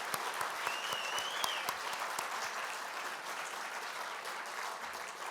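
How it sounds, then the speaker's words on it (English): An audience at the National Press Club applauds local journalists, a steady wash of clapping running the full length at moderate, even loudness with no voices over it. "And a round of applause for local journalists"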